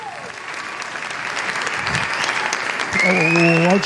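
An auditorium audience applauds steadily and fairly loudly for the whole stretch, a dense wash of clapping that swells slightly near the end, where a sustained tonal voice or note rises over it.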